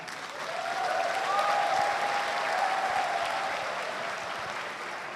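Steady applause from an audience greeting the invited speakers at a university Studium Generale lecture event, filling the hall for about five seconds at even loudness, with a faint tonal whine running underneath.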